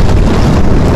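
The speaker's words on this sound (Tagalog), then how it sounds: "Lakas ang hangin." Strong wind buffets an outdoor microphone in a steady, loud roar of low rumbling gusts that fills the whole second, with no voices heard.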